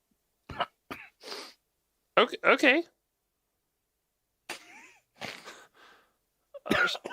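A string of sharp sneezes and coughs bursts out in separate fits with pauses between, and a voice speaks briefly.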